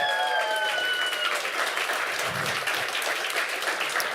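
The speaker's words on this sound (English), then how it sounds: "another round of applause for Elysium" Crowd applause at a LAN esports event, cheering for the team Elysium: sustained dense clapping from a large audience in an event hall, even and loud, with some faint tonal sounds early on.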